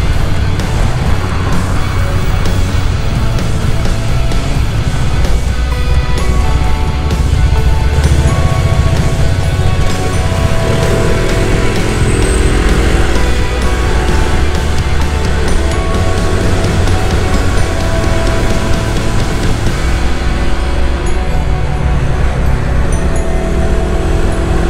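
Constant roar of strong wind during Typhoon Ma-on in Macau, heard on a ride through the city with vehicle rumble and steady buffeting noise against the microphone throughout.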